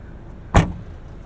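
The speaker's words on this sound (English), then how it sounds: "Very lightweight trunk, easy to open and close" A single sharp thud as the trunk lid of a 2022 Volkswagen Jetta GLI shuts, close and brief, with quiet outdoor background before and after.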